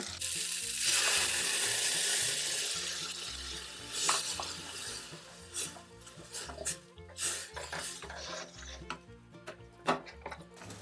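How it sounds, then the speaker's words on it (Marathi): Cooked shendadi and chavali drop into a pan of frying chilli masala, a loud crackling sizzle that eases into repeated spoon scrapes and clinks as the mixture is stirred, close by with no talking. "आता यात आपण आता शिजलेली शेंदडी आणि चवळी टाकून घेऊ"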